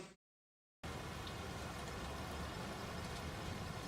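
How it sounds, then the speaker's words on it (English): Steady, loud rain in the video game Tron: Identity, a dense continuous wash of noise that starts suddenly after a short silence and holds evenly to the end. "The rain is deafening now"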